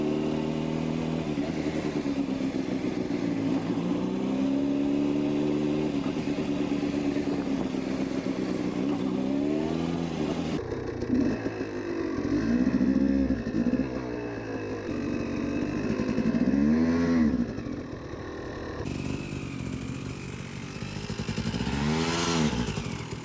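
A motorcycle's engine drones steadily up close through a swerving maneuver around an obstacle, its pitch rising and falling as the rider accelerates and eases off, with no voices over it.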